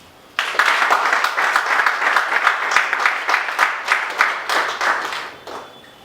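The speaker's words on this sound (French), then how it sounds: "je vous prie d'applaudir" A room full of people breaks into sustained applause, steady clapping that swells and then tapers off after several seconds.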